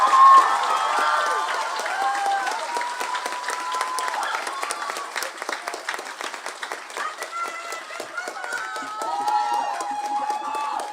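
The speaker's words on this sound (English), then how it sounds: "let's welcome and give a round of applause to our student speakers" Applause and cheering from a graduation crowd welcoming student speakers, the two student body co-presidents, a steady clapping wash with whoops and shouts layered on top throughout.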